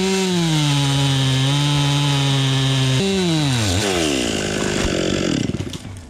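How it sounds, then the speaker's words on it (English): A chainsaw cuts off a tree stub, its engine holding a loud, steady whine that drops in pitch at about three seconds, then bogs and wavers as the chain bites into the wood, close and continuous with no voices. "Let me cut this stub off."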